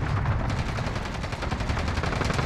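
Rapid automatic gunfire from an EM2 rifle in the Iron Trials mode of a shooter game, a steady stream of shots close and loud throughout, no talk.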